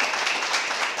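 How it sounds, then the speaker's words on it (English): A round of applause at a boxing club, dense steady clapping from a small crowd filling the short stretch without pause. "But Graham, give me a big round of applause."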